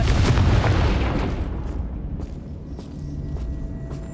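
Confringo fire-curse spell blast in the video game Hogwarts Legacy: a loud, broad booming burst at the start that decays over a second or two into a low rumbling tail with faint crackles.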